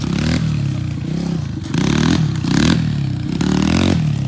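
A KTM dirt bike engine revs loudly and close by in rough, repeated bursts, with clattering mechanical noise between the surges and no talking.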